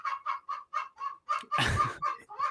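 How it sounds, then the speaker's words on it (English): A hen clucks repeatedly while laying an egg: loud, close, nasal clucks at about two per second, broken in the middle by a harsher, drawn-out squawk. "that's one of the hens. She's laying an egg. That's what laying an egg sounds like."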